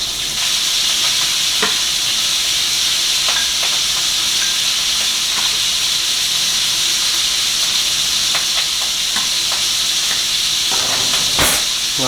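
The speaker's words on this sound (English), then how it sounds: "the sizzling in the background is actually my steak" Steady, loud sizzling of steak frying in a hot pan, a continuous hiss with occasional pops and crackles throughout.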